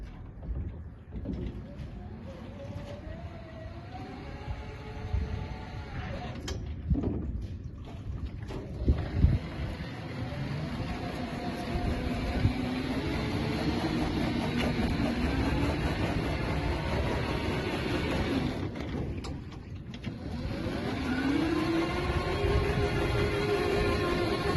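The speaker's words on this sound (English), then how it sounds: "we will use the remote control to control the device to move forward, backward, and rotate" A SPRY600B remote control boom sprayer driving forward, backward and rotating, giving a steady engine drone with rising and falling whines as it speeds up and turns, plus wind buffeting on the microphone, with no talking.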